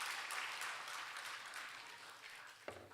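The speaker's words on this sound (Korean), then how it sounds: "박수를 하려면 제대로 해요." A church audience claps in a sustained, fairly faint patter of applause that gradually thins out, ending with one louder thump near the close.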